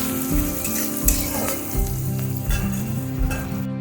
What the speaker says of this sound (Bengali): ভাজা ভাজা হয়ে গেছে, আমি অল্প রসুন থেতো করা দেবো, দিয়ে একটু ভালো করে নাড়িয়ে চাড়িয়ে নেবো।